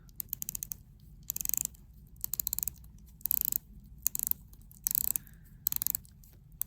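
The stainless steel bezel of a Tag Heuer Aquaracer 200 watch is turned in short bursts of fine, crisp clicks, repeated about six times, close and quiet.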